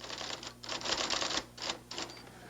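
Manual typewriter typed at a steady clip in an old broadcast commercial about a writer, key strikes rattling in dense bursts with brief pauses between runs, close and fairly loud with no talk.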